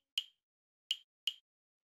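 Three sharp, dry clave hits in a house-music drum sample, each a bright woody click with a short decay, the first alone and the last two closer together, with no talk.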